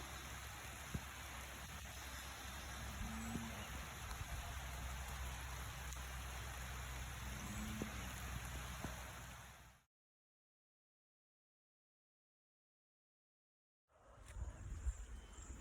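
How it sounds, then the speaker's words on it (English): Light rain falls steadily outdoors on a farm during lambing season, a constant soft broadband patter for about ten seconds before dead silence, then the rain returns briefly near the end. "still light rain coming down"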